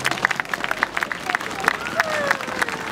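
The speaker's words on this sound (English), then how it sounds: "So please give them a round of applause." An audience claps after a clock tower lighting ceremony, a modest scattering of hand claps heard fairly faint and uneven amid general crowd murmur and a little talking.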